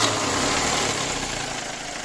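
DIY EFI engine running after being cranked, a steady close idle with a vibrating drone that holds even and unbroken for about two seconds.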